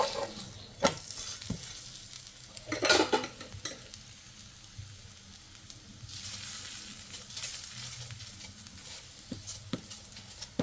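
A paratha fries in oil on a pan over a medium gas flame, giving a steady soft sizzle with occasional louder stirring and scraping noises from the pan.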